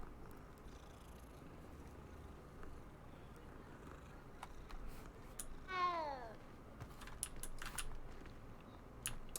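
An orange cat in the Hogwarts Legacy video game gives a short meow mid-clip, faint against quiet game ambience and soft keyboard clicks.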